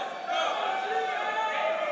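Loud, steady crowd noise from a packed audience at a five-on-five crew dance battle between Spain and England, a continuous roar of cheering and shouting that swells slightly and holds for the whole stretch.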